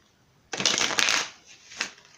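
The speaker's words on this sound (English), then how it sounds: "Alright, with the shuffling here." Tarot cards are riffled and shuffled once, a close, crisp papery burst of about a second, then a softer flick, with no talking.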